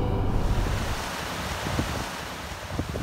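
A river flows past where a family washes carpets near Shiraz, a steady broad rush of water mixed with wind buffeting the microphone, continuous and fairly loud.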